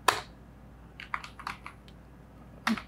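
Scattered keystrokes on a computer keyboard: a sharp click at the start, a short run of light taps in the middle, and another distinct click near the end, close and fairly quiet.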